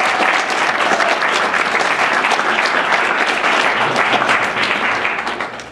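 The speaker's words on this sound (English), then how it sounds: "I'd like to ask everyone to give a warm round of applause for everyone else that spoke tonight." A loud, dense round of audience applause at an evening talk on psychology and personal development, steady and full throughout before tapering slightly at the end, with no speech over it.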